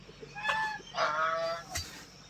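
Clucking and calls from chickens of many breeds kept together at a poultry farm, a few short bird vocalizations rising over a low barnyard background, moderately near.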